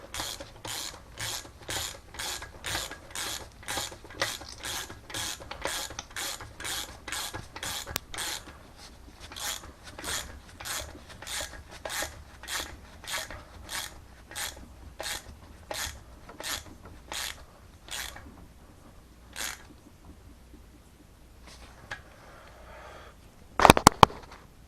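A 3/8 ratchet tightens on the camshaft chain tensioner of an Audi A6 B5 engine, a long, close series of evenly spaced clicking strokes that slow and fade near the end, followed by a few sharp metallic knocks.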